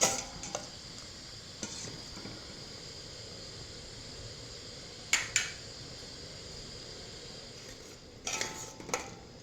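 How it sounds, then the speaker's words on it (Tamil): A ladle stirs milk payasam with sago in a pot over a low flame, giving soft scraping and clinking against the metal at a few scattered moments over a steady background hum. "இப்போ கரண்டியால் கலக்கிடுவேன்"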